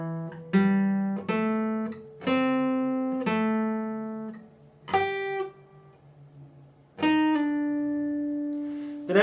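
The opening riff of a song on guitar, played slowly: a sequence of about eight distinct plucked notes with ringing sustain, one brief pause midway, clear and close with no voices.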